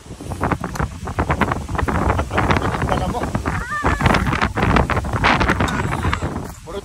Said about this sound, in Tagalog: malakas yung hangin. Grabe oh. Oh, kita niyo yung hangin na yun. Malakas yung hangin.